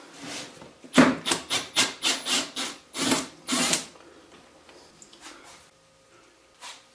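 A Phillips screwdriver turns out a screw on a Yamaha Grizzly 450 ATV, a close run of about nine rhythmic ratcheting scrapes followed by quieter handling and a final faint scrape.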